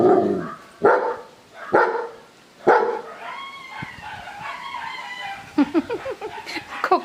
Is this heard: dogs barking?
yes